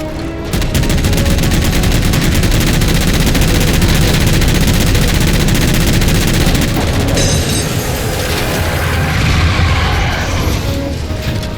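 Dense, continuous gunfire in Halo 4 as jammers are shot down, with rapid automatic bursts and booming impacts running loud and unbroken throughout.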